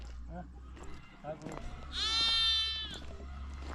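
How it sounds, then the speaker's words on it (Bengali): A goat at a farm pen near Taif, Saudi Arabia, lets out one loud wavering bleat midway, with people talking nearby before and after it. "কি কয় ছাগলে"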